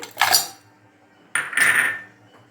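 Grated jaggery is tipped into a metal bowl in two bursts, each a close clatter of a scraping spoon against metal, separated by a short pause, with no voice.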